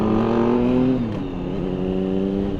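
A car just ahead on the road accelerates, its engine note rising steadily and sustained, fairly close and loud with a smooth, rich tone and no talking.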